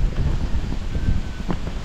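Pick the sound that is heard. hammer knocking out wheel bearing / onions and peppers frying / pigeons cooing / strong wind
strong wind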